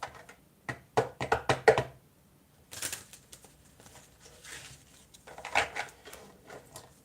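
Tarot cards shuffled by hand, bursts of quick close riffling and tapping in clusters separated by short quiet gaps.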